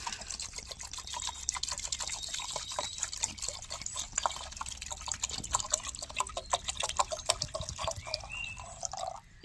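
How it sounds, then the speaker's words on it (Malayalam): Water is poured into a pot while a homemade herbal hair-growth spray is being prepared, producing a close, continuous splashing trickle with dense dripping and no talk. "അപ്പോൾ ഈ വെള്ളം നമുക്ക് ഒഴിച്ചു കൊടുക്കാം"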